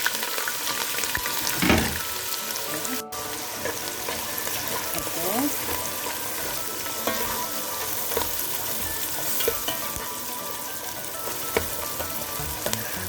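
Red and white onions, about a cup, fry in a pan for Filipino beef pares, giving a steady close sizzle throughout with a brief stirring clatter near the start.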